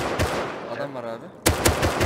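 Close gunfire in Rust sounds as a couple of sharp shots, then a short pause, then a louder burst of rapid shots near the end.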